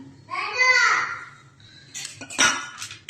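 Masala pasta being stirred in a pan with a spoon, a few scraping clinks of metal against the pan following a short stretch of voice, close and fairly loud.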